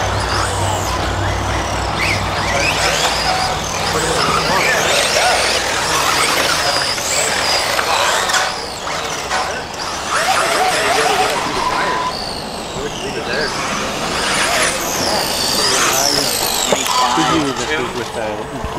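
A Tekno EB410 1/10 electric RC buggy running on a HobbyWing ESC, its high motor whine rising and falling as it accelerates, turns and slows, with speech at times.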